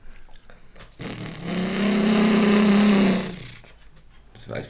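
A beatboxer imitates a race car with the voice, a buzzing engine-like drone that rises, holds loud for about two seconds and fades, with short mouth sounds before and after.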